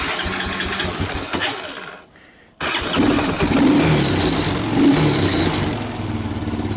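Honda Recon 250 quad with a freshly adjusted shifting clutch starting up, the engine running and cutting out briefly, then catching again at once and settling into a steady, loud, close idle.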